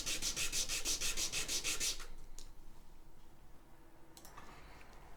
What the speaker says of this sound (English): So sand until you don't see as much of the line and start again.